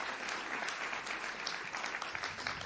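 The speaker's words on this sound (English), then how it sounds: "Can I get a big round of applause for Kazuki Kitaoka?" A crowd applauding steadily at an award ceremony, dense continuous clapping from many hands with no voices on top.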